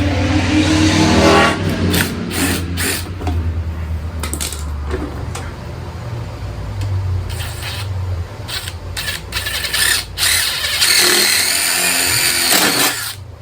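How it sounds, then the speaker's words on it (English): Bursts of an impact wrench buzzing and rattling against steel, starting and stopping several times over a steady engine-like hum. "Can't drill it with an impact wrench."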